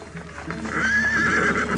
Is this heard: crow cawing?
no